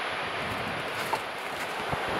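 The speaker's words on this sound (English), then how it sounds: "It's March, it's about -5 and it's really windy." Steady March wind roars and buffets the microphone over a constant rush of water at the Hopewell Rocks, with faint splashes of surf in the background.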